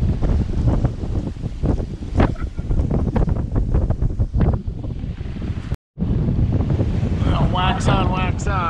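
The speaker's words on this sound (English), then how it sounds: "This wind has kind of eased a little" Strong wind rushing steadily over a sailboat at sea in chilly, blustery New England weather, a loud continuous roar with gusts and water wash, broken by a brief dropout, with faint squeaky tones near the end.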